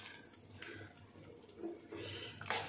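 Thin coconut milk pours into a pot of Kerala-style jackfruit payasam, a faint, brief liquid trickle and splash.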